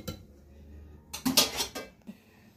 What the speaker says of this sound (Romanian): Deci vom unge tigaia, nu foarte mult ulei